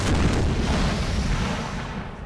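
Cannon fire from a Napoleonic-era battle in Napoleon: Total War: a dense, continuous rumble of booming artillery, loud and close, rolling on without pause across the whole stretch.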